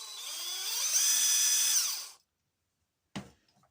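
Brushed impact driver whirring for about two seconds with a rising then falling motor whine, followed by silence and one short sharp burst near the end.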